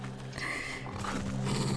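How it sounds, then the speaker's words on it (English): A wolf in the horror video game Alan Wake 2 lets out a low, continuous dog-like growl with a rough snarling edge, close and fairly loud. "Why'd it have to be a wolf that makes dog sounds?"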